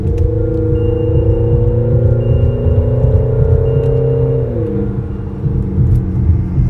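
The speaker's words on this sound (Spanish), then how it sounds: "Se escucha así. motor mucho más grande, como si fuera un, motor mucho más deportivo." A Peugeot 3008 family SUV's engine hums in a low, steady drone from inside the cabin, its pitch holding then dropping slightly as the revs ease, with no voices.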